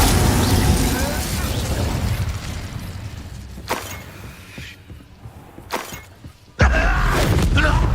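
A fire spell cast in the video game Hogwarts Legacy, with a loud roaring burst, some crackling and thuds, then a sudden blast of flame near the end, amid dense game noise.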